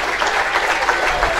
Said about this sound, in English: Karam Shahzad gets a round of applause